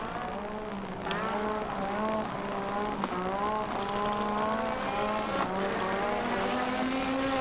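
A 1985 Formula One racing car spins its wheels with smoke coming off the tyres. A loud, sustained engine whine rises and falls in pitch over several seconds and runs on without a break.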